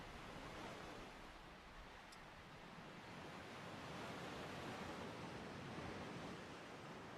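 Ocean waves wash continuously onto a shore, a steady, even rush of surf with no distinct breaks, heard alone at a fairly soft level.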